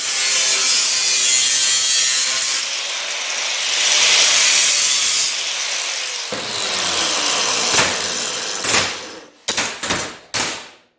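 A hand saw rasps through car body sheet metal while removing spot welds, a long steady rough scraping that ends in a few short separate strokes.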